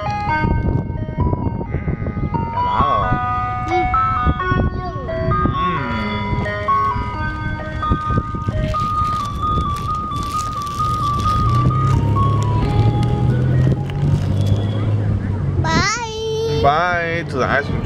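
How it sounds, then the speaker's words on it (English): An ice cream truck plays its tinkling jingle melody near a park, loud and continuous over a rumbling engine, with children's chatter and babbling mixed throughout. "Bye to the ice cream truck."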